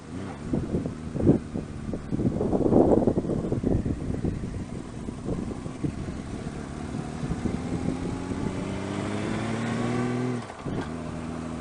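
A Honda Valkyrie trike's engine runs steadily close by through stock mufflers with the baffles cut out, a low throbbing rumble that rises in pitch as the throttle opens.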